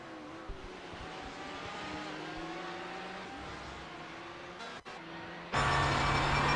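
Onboard engine of an LMP1 prototype race car in a racing video game at an endurance race at Barcelona, whining steadily as the pitch climbs and drops through gear changes, then jumping louder and harsher near the end.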